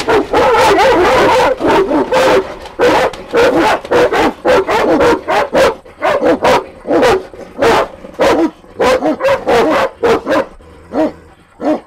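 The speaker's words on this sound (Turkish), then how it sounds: "Bizim köpek havlamalarından sesimiz gelmedi" Kangal dogs bark loudly and repeatedly in quick bursts, close by behind wire fencing, with a few yips and whimpers between the barks.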